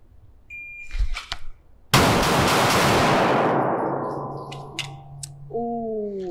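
Pistol fired during a bill drill at a shooting range: a few quick sharp shots, then a loud blast whose echo decays over several seconds, followed by electronic timer beeps.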